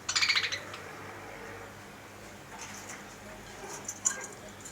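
Pet parrots in a cage at a home aviary setup, with a burst of bright chirps at the start and a few more scattered calls near the end over a quiet room.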